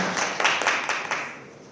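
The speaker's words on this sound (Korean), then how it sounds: "박수 부탁드리겠습니다." Brief applause at a university innovation forum session after a professor's presentation, a short patch of clapping, soft and somewhat distant, fading within two seconds.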